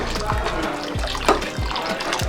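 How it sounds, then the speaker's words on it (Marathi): Hot water splashes and trickles as it is poured into a pan for cooking kurdai, with a few low thumps along the way and faint background noise. "आता याचं थोडं गरम पाणी टाकायचं आधीच गरम पाणी करून ठेवलं होतं"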